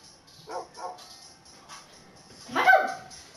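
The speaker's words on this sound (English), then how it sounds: "My dog!" A dog gives two soft yips, then a louder, longer bark or whine near the end, fairly close against a quiet background.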